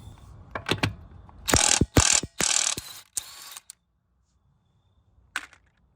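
A ratchet fitted with a sleeved socket works loose the wheel lug nuts on a 2020 Hyundai Palisade, giving several bursts of close, loud clicking with short gaps between them. A single brief click follows after a pause.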